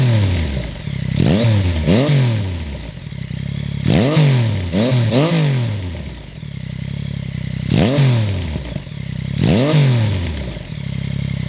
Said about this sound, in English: So here's the sound of the exhaust before install and after